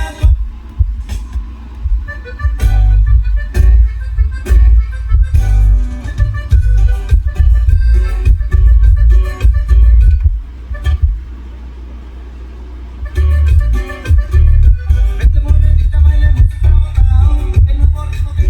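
Bass-heavy music played through a SoundXstream ST-AP5 speaker, deep booming low end pulsing in a beat with a short break before the bass returns, loud and close.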